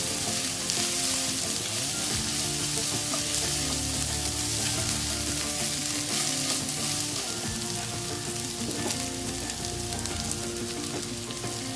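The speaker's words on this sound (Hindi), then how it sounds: "और 1 टीस्पून जाएगा इसमें लहसुन। बस हल्का सा सौते करेंगे।" Garlic sautéing in hot oil for chicken fried rice gives a loud, continuous sizzle and crackle, with occasional stirring scrapes, close up and without any talk.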